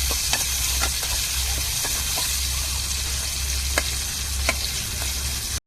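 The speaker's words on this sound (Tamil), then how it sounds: "தாளிக்கும் போதே தக்காளியை சேர்த்து வதக்கி ஊற்றிடுவோம் குழம்புல" Steady, loud sizzling of tomatoes sautéing in hot oil for a squid curry, with occasional crackles and pops over a constant frying hiss.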